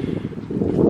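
Brief low rumble of wind buffeting a microphone, steady and muffled, rising slightly toward the end.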